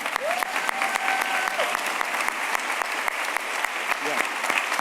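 Audience at a book festival celebration evening on Nantucket applauds, a dense, sustained clapping crowd filling the room, with a brief whoop or voice cutting through near the start.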